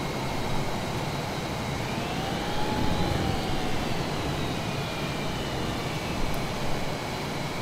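F/A-18 jet flying low level through the Colorado Rockies, a loud, steady roaring engine and wind rush heard close up with slowly shifting tones throughout.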